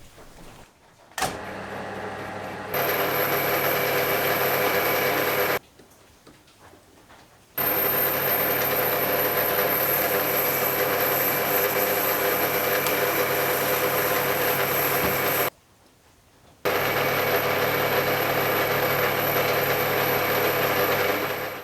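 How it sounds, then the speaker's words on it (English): A metal lathe bores out a gear to 24 mm with a boring bar, the machine running in a steady loud whine with a broadband cutting hiss, stopping and restarting twice with short quiet gaps; no one speaks. "I'll then come in with a boring bar and bore it to exactly 24mm so it fits perfectly on the motor shaft."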